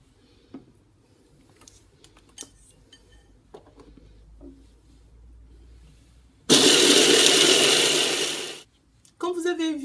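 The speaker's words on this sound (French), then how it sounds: "je vais mixer le tout comme j'ai fait pour mon chocolat" Scattered light clinks of utensils and dishes lead into a loud, whirring blender run that grinds peanuts with oil, salt and honey for nearly three seconds, stops briefly, then starts up again.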